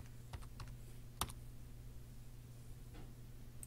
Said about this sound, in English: I'm going to type live.